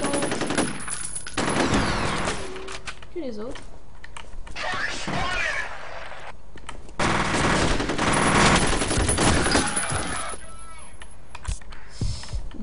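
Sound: submachine gun firing in the video game F.E.A.R

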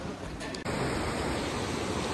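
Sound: waterfall rushing water at Tiger Fall, Chakrata

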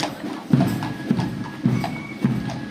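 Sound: horses hooves clip-clopping

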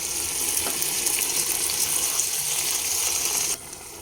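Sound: hot water poured into pan of frying spring onions and peas

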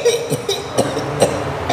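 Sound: person coughing

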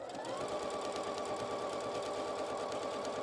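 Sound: sewing machine stitching a fabric seam, sped up

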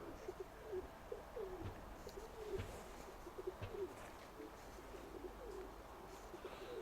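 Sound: pigeon cooing

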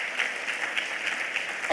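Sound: church congregation applauding

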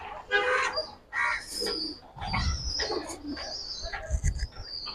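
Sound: giribaz pigeons cooing

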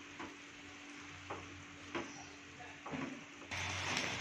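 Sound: stirring pasta with tomato ketchup in pan

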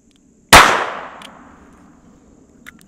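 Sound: 22 long rifle gunshot into denim-covered test block

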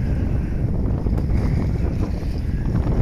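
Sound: wind at a rocky seashore

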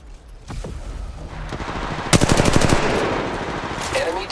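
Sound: gunfire from enemies in the video game Apex Legends Mobile

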